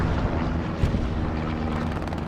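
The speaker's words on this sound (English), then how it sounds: "Recon plane coming up" A recon plane flies over during a competitive video game match, producing a steady, continuous engine drone that holds at an even level throughout.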